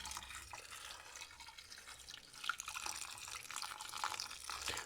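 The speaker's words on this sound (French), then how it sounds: "après on met de l'eau dedans" Water is poured into a jar of violet flowers for homemade violet syrup, a faint, close trickling and splashing with no talk.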